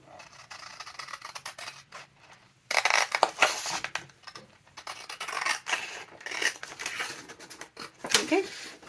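Cheap scissors snip through paper around an altered CD sleeve while making a junk journal pocket, giving a series of close, crisp cutting and rasping sounds over quiet room noise, with brief faint talk between cuts.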